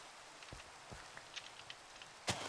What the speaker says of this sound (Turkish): Aa yağmur yağdı